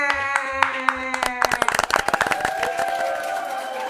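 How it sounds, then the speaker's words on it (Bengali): An audience at a gathering claps after a birthday song. The tail of a tone fades into dense, uneven applause from many hands that swells and then settles. "হাততালি সবাই।"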